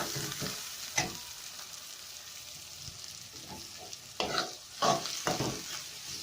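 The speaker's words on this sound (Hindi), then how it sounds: "यहाँ पे हमारा ऑयल गर्म हो गया। अब इसमें हम प्याज डालेंगे।" Sliced onions sizzle steadily in hot oil in a cooking pot, with a continuous frying hiss broken by several sharp scraping stirs of a spoon, heard up close without speech.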